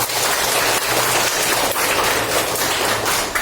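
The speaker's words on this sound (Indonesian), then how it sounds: "Tepuk tangan dong" A room full of students claps together during a classroom teaching practice session, dense, loud, continuous applause filling the short stretch with no voices over it.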